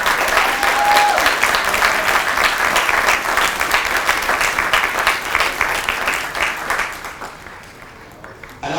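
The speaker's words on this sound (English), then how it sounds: "Ladies and gentlemen, let's give these family members a round of applause." Audience applause at a Marine Corps Fox Company graduation for family members, a dense loud burst of clapping from a large crowd that holds steady, then gradually fades toward the end.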